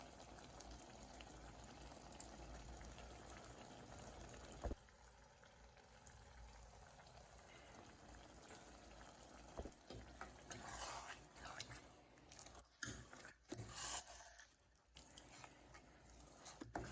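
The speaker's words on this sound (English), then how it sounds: "Then allow it to fry for the remaining 15 minutes before everything comes together nicely" Nigerian Ayamase (Ofada) stew fries and bubbles in a pot, a quiet continuous simmering sizzle, with occasional louder stirring and scraping clatter toward the end.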